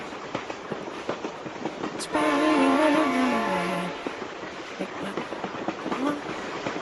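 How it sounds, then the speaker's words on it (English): A train rolls past in the BeamNG.drive driving game, a loud sustained rumble with a steady horn-like tone swelling for about two seconds before fading, framed by quieter rattling and clatter. "Oh my God, train."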